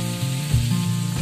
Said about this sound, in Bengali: আমার ডাটা আলু প্রায় ভাজা ভাজা হয়ে এসছে